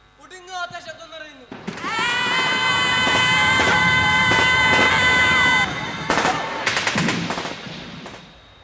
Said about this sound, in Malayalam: വെടിവെച്ചുകളുടെ ഒടുങ്ങാത്ത ശബ്ദം നിറയുന്നു